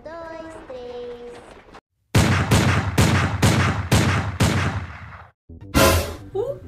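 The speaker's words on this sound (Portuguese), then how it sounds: "Ela faz barulho de tiro." A rapid volley of loud, close gunshots from a doll in the Roblox Brookhaven game rings out in quick succession after a brief tonal game sound, followed by a short pause and one more blast.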